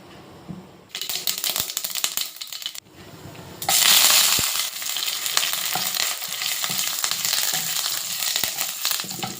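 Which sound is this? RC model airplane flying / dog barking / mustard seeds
mustard seeds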